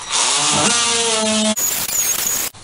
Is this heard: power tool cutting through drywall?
yes